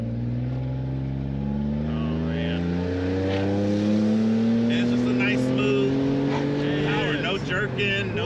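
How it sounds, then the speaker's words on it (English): Supercharged Toyota Sienna minivan accelerating hard, its engine and exhaust note climbing steadily in pitch as it revs, loud and close, with people talking over it toward the end. "the exhaust is amazing"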